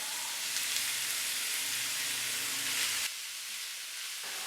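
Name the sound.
frying half a kilo of minced beef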